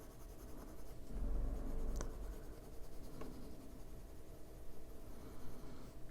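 A Caran d'Ache blender pencil rubs lightly in circles over a colored postcard, giving a soft, steady scratchy scrubbing close to the mic, slightly louder in the first couple of seconds, with no talking.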